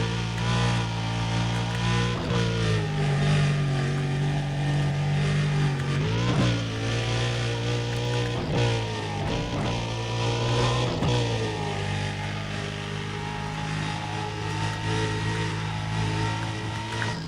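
Car engine in Need for Speed: Undercover on an expressway loop, a sustained loud drone that climbs and drops through several gear shifts and revs, with brief whooshes of passing traffic.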